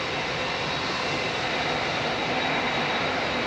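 Airbus A380 airliner at London Heathrow, its engines producing a steady, loud, broadband jet roar with a faint high whine, unbroken throughout.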